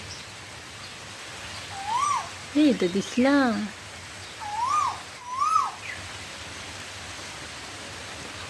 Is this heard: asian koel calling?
yes